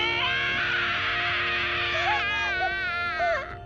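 A man in an anime scene shouts loudly in frustration, a strained, high-pitched cry held for about two seconds, then breaking into wavering, sobbing bursts, loud and close.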